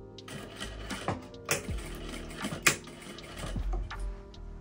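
A sewing machine stitches a trouser fly zipper in short bursts, with mechanical whirring runs, clicks and pauses between them, close by.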